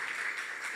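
A church congregation applauding during a worship service, a dense, steady patter of many hands clapping together, moderately loud and without talk.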